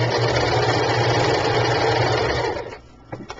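A sewing machine runs steadily for a few seconds as it stitches the bottom seam of a handmade fabric sachet bag. The loud mechanical whir stops abruptly near the end, followed by a couple of soft clicks.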